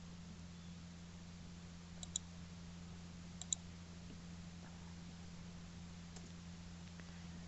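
Two or three small, crisp computer mouse clicks sound faintly and sparsely over a constant low electrical hum, with long quiet gaps between them.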